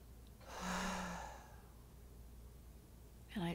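A person draws in one slow, audible breath that swells and fades, followed by a quiet pause and a faint sound at the end.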